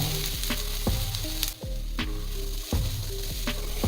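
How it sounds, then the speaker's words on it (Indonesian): Vegetables with sliced chili stir-fried in a pan for an everyday Indonesian vegetable dish, a steady close sizzle broken by repeated scraping stirs and clanks of the utensil against the pan, with no talking. "Kita tumis hingga tercampur merata."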